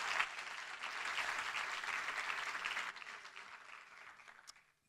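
Church congregation applauding in praise during a Spanish-language worship service, a steady broad wash of clapping for about three seconds that thins and fades to near silence at the end.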